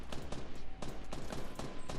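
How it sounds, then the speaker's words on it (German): Rapid gunfire in Fortnite Battle Royale, a fast regular string of shots at moderate distance, fairly quiet and continuous for a couple of seconds with no one speaking. "Jetzt schießt der andere."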